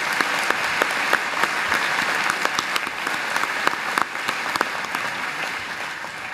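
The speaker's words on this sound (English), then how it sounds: "So can we get one more hand of applause for the Crimson Quartet?" A commencement audience applauds the Crimson Quartet with a dense, steady clapping that holds loud and even from start to finish, and no voices rise above it.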